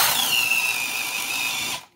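A 4,000 RPM drill with a 9/16 Bosch DareDevil self-feed spade bit whines loudly and steadily as it bores through, then cuts off abruptly near the end.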